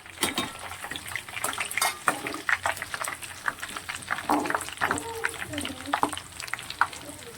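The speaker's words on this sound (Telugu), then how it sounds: "అందుకే ఎండు మిరపకాయలు ఇప్పుడు వేస్తున్నాను" Dry red chillies hit hot tempering oil with chana dal, mustard seeds, cumin and curry leaves for a mango pickle, sizzling and crackling steadily while a metal spoon clinks and scrapes the pan.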